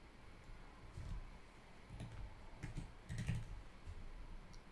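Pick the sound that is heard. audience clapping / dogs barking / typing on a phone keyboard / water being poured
typing on a phone keyboard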